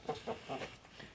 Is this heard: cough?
no